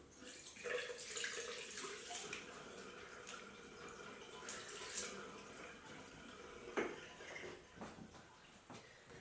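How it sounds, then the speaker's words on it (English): A tap runs while someone rinses their face at a sink, a faint steady trickle broken by irregular splashes and drips. "Now I love giving my face a good rinse."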